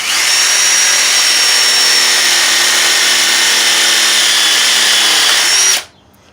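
A cordless drill whines at high speed close up, holding a steady pitch for several seconds before stopping abruptly.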